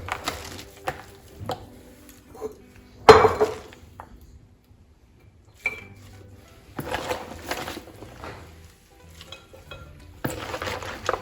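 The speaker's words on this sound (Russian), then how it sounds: "Теперь укладываю капусту в посуду." Clattering and clinking of shredded cabbage and utensils against a container while packing sauerkraut, in irregular bursts with pauses between them.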